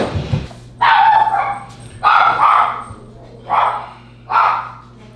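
A dog being cared for at home barks four times, loud and close, in evenly spaced single woofs over a low indoor hum.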